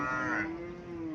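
An indigenous cow lows once at a Chauara cattle market in Cumilla, a long, loud, steady moo with a gently falling pitch, close to the listener, with no talk over it.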